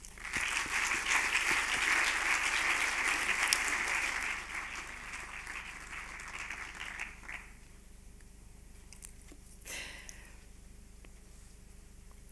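An audience applauds at the FIFF 2024 film festival award ceremony, dense clapping that holds strong for several seconds, then thins and fades into a quiet room with one brief later rustle.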